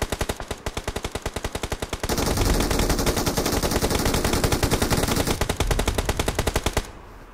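Rapid machine gun bursts in a shooter video game, close and loud: steady rhythmic firing, then a dense, overlapping stretch of gunfire before a final burst of evenly spaced shots that ends abruptly.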